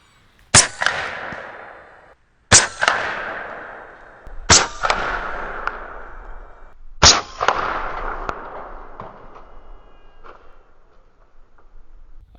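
An AEA HP MAX 357 air pistol firing pellets, four sharp loud cracks spaced about two seconds apart, each trailing off in a ringing decay, with a fainter pop near the end.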